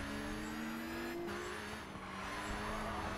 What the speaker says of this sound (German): ich habe die Heckschütze verloren und dadurch wird der Auspuff lauter